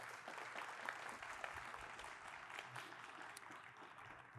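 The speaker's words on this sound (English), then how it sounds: "Please give them a round of applause." Audience applause at the opening of Community Hospital in Long Beach, a quiet, distant wash of steady clapping that fades slightly toward the end.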